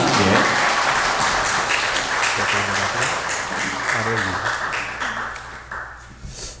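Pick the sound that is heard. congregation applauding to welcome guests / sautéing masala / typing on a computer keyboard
congregation applauding to welcome guests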